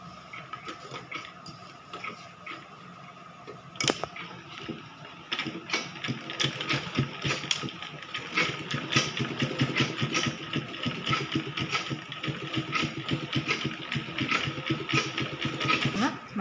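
Sewing machine stitching a pocket onto a kids' cloth bag made from old pants, a busy mechanical whir with rapid ticking and rattles that grows louder and denser after a sharp clack.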